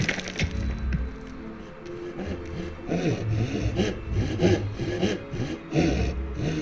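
A video game character saws wood to build cots, a steady back-and-forth rasp of a blade through timber repeating in close, even strokes throughout.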